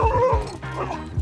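A friendly dog gives a quick run of close, loud yips and short barks, about four in just over a second, sounding slightly whiny.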